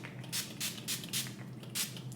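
Mario Badescu setting spray misted onto a face, four or five quick close pumps of fine hissing spray in a loose rhythm, with no talking.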